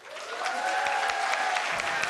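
An audience claps together in a brief, steady round of applause, dense and even throughout, with a faint tonal ring running beneath the clapping.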